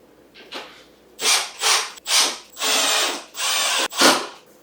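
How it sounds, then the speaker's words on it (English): An electric drill bites into wood in six short bursts, each whirring pulse rising and cutting off, close and fairly loud with brief pauses between. "using something with a little like drill, electric drill, is a little bit faster"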